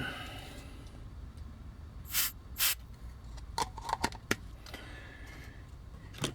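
Two short hissing spray bursts on a Takara Transformers G1 Stunticon Dragstrip toy during disassembly, followed by scattered faint clicks and taps in an otherwise quiet room.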